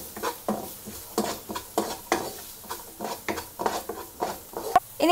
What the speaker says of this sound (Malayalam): ഇതൊന്ന് നന്നായിട്ട് വഴറ്റിയെടുക്കണം.